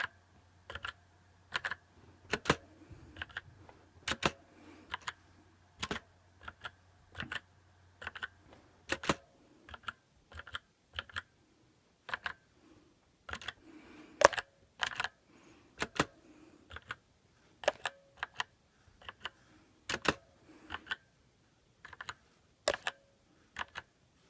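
Keys clack on a computer keyboard in irregular bursts of sharp, close taps separated by short pauses, with a faint low hum under the first stretch and no voices.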